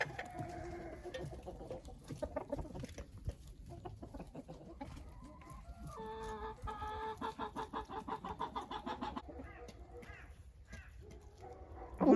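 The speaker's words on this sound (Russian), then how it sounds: "Вот такая курочка помесная амераукана, петух, и моя обычная чубатая курочка" Hens, an Araucana crossbreed and a crested hen, cluck steadily in a poultry run while an Araucana rooster calls, with busy overlapping bird sounds close by throughout.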